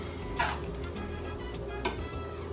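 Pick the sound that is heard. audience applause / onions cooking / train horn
onions cooking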